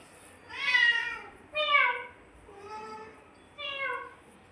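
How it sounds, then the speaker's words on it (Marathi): A cat meows indoors in a home where a second cat has just turned up: four separate drawn-out meows, close and clear, with short pauses between them. "दुसरं मांजर आलं बबड्या घरात."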